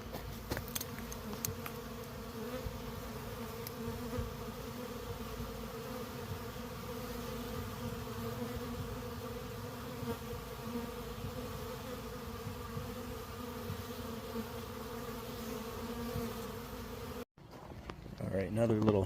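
Honey bees in a swarming hive drone in a steady, dense buzz that holds at close range for about seventeen seconds, then cuts to a brief, different noisy stretch at the end.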